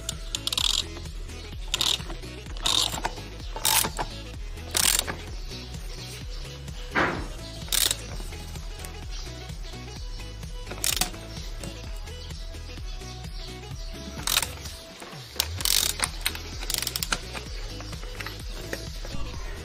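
Sharp metallic clicks and ratcheting taps come while the primary gear on a Yamaha DT motorcycle engine is tightened, irregular close bursts over a quiet workshop background with no voices.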